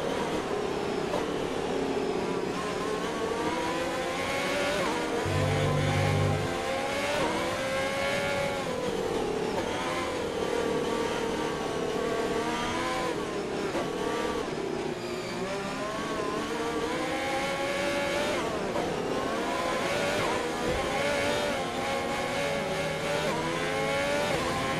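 Formula 1 car engine in the F1 2020 racing game at the Netherlands circuit, running through its gears on a warm-up lap in wet conditions; a steady loud engine note rises and falls with shifts, continuous throughout with no talk.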